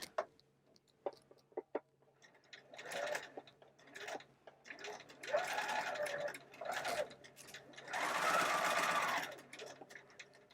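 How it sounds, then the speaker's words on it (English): A sewing machine stitches an elastic casing on doll pants and skirt fabric, with a few quick single taps at first and then several loud bursts of rapid, even stitching separated by short pauses. "I always sew from the top to the bottom whenever possible"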